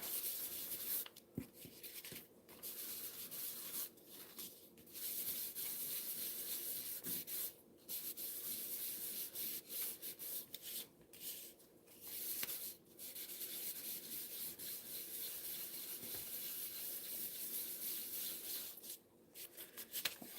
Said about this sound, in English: we're just going to kind of wipe that excess off of the embossing powder